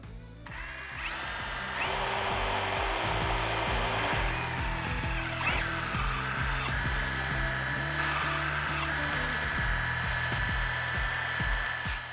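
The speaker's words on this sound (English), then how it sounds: "Drill as straight as you can and then start working your way up in the size of drills" A power drill drills into a metal bolt head on a KTM 790/890 Adventure triple clamp, whining steadily and loudly throughout, its pitch shifting slightly as it bites, with occasional clicks and scraping.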